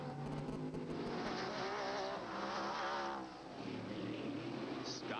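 Trans-Am race cars roar past on the track at the 1990 SCCA race in Des Moines, Iowa, a continuous loud engine drone with a Doppler sweep as one car passes, then the field's rumble carrying on.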